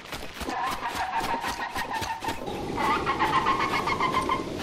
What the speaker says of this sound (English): In the sound files, this is labeled as a parrot, and my best guess is one of the cockatoos.